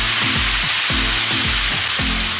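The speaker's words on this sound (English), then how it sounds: "So this is how you deglaze your pan." A pan sizzles loudly and steadily as chicken broth deglazes it, a dense, close frying hiss with a low rhythmic throb underneath.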